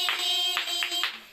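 A congregation claps along during sermon praise. Rhythmic hand claps sound over sustained tones of singing or music, with a few sharper bursts of clapping.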